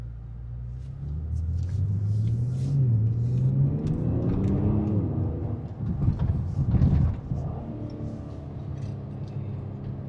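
A 2022 Kia Stinger GT drives down a road, its engine droning and rising in pitch as it accelerates, with steady road rumble close by throughout and no talking.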